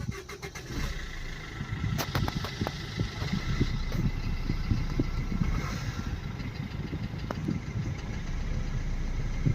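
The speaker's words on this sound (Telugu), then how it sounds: "ఒకసారి స్టార్ట్ చేసి ఇంజన్ కండిషన్ చూద్దాం." A 2017 Maruti Swift VDI diesel engine turns over and settles into a steady, rough idle close by, its knocking diesel rattle continuing evenly after a few sharp clicks at the start.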